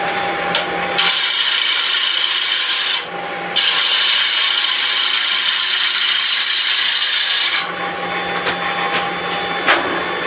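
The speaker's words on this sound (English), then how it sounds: "Just note the angle of gouge as I do this. All of this is with pull cuts." A gouge on a wood lathe makes roughing pull cuts on a wooden toffee dish, producing loud, close, continuous scraping and rasping in two long sustained passes, with a brief break between them and quieter spinning before and after.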